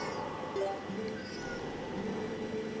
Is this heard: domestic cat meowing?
yes